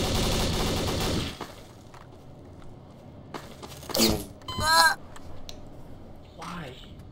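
Gunfire from an AK rifle in Garry's Mod city roleplay: a loud rapid burst opens the moment, then scattered sharper shots and impacts follow amid voices talking over the action.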